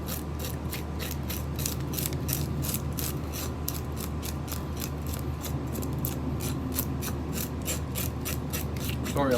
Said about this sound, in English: Sorry about the noise for the AC, my neighbor's house.